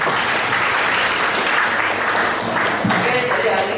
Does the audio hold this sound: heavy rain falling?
no